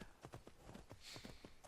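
In the video game Skyrim, a horse's hooves climb a steep slope, giving an even, rapid clip-clop of about a dozen close hoofbeats against a steady background.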